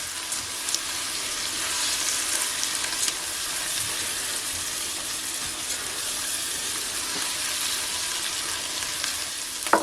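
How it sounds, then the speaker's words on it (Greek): Orzo sautés in a pot with softened vegetables for a Lenten tomato soup, giving a steady, close hiss and sizzle with faint stirring scrapes throughout. "Θα σοτάρω και το κρυθαράκι μου για 1 λεπτό."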